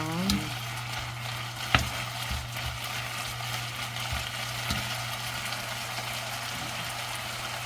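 Anchovies stir-frying in a pan with a soy sauce base, a continuous crackling sizzle with occasional scraping stirs and a low steady hum underneath.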